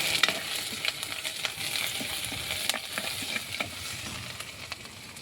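Ginger and garlic frying in hot oil after mustard seeds have spluttered for a fish curry, a close crackling sizzle with scattered sharp pops and stirring sounds throughout.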